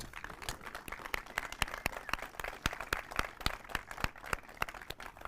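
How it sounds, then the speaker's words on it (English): An audience at the unveiling of the Lansing School District and Dean Transportation electric bus fleet gives a round of applause, heard as faint, steady, scattered hand claps with no voices. "if we could all just give a round of applause."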